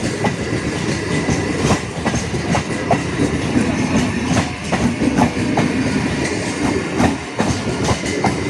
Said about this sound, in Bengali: ট্রেনটা দমদম থেকে আসছে।